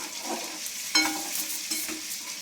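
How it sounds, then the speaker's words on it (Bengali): Eggplant slices frying in oil in a pan, a close steady sizzle with a couple of sharp scraping stirs and spatula knocks partway through. "আর এদিকে আমার বেগুনগুলো ভাজা হয়ে গেল।"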